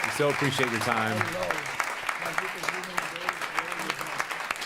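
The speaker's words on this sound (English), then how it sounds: "If you join me in a round of applause, though, for this amazing group of panelists." Audience applause rings out for a panel on computing education in New York City schools, continuous clapping heard under a man's spoken thanks at the start, then carrying on alone.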